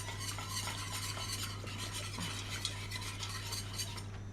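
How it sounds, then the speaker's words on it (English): Cream whisked with a spoon in a bowl, producing a rapid, continuous rhythmic clicking and swishing at a fairly faint level, with a low steady hum underneath; no talking. "Whisk this together."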